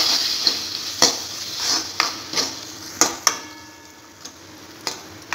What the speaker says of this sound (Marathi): परतलेल्या मसाल्यात आपण थोडंसं पाणी टाकून पुन्हा परतून घेऊया.